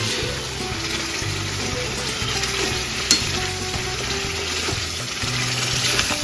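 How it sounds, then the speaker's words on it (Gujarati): Pav bhaji is stirred and mixed in a hot pan, with a steady loud sizzle and repeated scraping strokes of the spoon in an even rhythm, plus a brief clink partway through. "હવે એને સારી રીતના મિક્સ કરી દેવાની"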